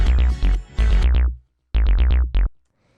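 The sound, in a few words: heavy 303-type synth bass from Ableton Operator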